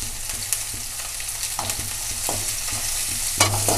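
Curry leaves frying in hot oil for coconut rice, a loud, dense crackling sizzle with a few spatula scrapes and knocks against the pan.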